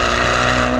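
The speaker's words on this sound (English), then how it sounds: "You get more of that, signature EcoBoost sound." A Ford Mustang EcoBoost engine downshifting through a Ford Performance Borla exhaust, a loud continuous throaty drone with a steady rumble for under a second, no talk.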